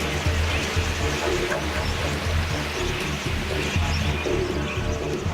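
Budgerigars call from a flock, with busy overlapping chirps and warbles mixed with soft coos and a steady rushing background, a moderately loud, continuous natural chorus.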